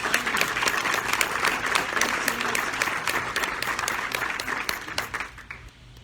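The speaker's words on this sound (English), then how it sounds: "Nice round of applause." Sustained audience applause at a community breakfast annual meeting, a dense wash of many hands clapping steadily before tapering off near the end.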